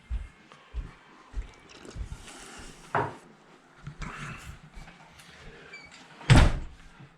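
A wooden door bangs shut with a sharp, loud knock, following a few softer creaks and bumps in an otherwise quiet room.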